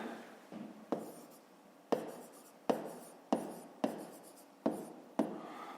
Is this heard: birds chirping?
no